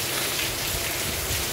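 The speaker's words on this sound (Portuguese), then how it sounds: "Acordei agora com o som da chuva." Heavy rain falls on the streets of Santana do Ipanema on Good Friday, a dense, steady hiss of drops hitting surfaces, loud and unbroken with no voices over it.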